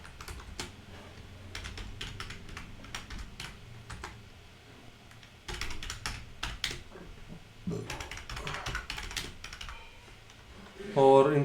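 Typing on a computer keyboard while writing Python code, rapid irregular key clicks in bursts, close and clear, with someone talking over parts of it.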